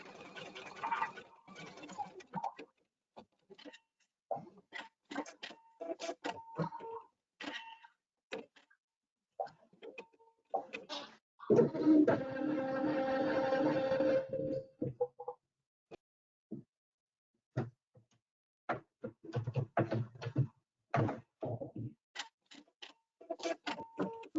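An embroidery machine stitches out a design with irregular mechanical ticking and clicking, and a denser, louder run of rapid stitching partway through. No one speaks.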